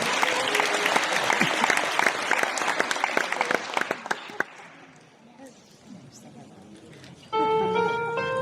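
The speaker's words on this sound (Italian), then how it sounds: "Un applauso ancora!" A theatre audience at an Italian dialect comedy performance applauds loudly with a dense clatter of clapping that fades out after a few seconds, leaving a quiet gap before a brief tonal jingle of music starts.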